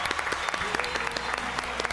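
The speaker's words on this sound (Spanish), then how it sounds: "Fuertes aplausos para Laura, Bruni." A studio audience at a televised singing competition gives brief, dense applause with sharp individual claps.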